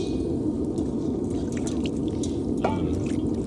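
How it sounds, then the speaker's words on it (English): Water splashes and drips onto a frozen metal block during aluminum bronze casting, over a steady, rushing background hiss, with no voices. "Or you can just kind of splash it with some water"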